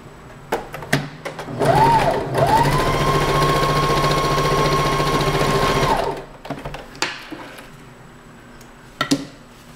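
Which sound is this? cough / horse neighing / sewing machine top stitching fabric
sewing machine top stitching fabric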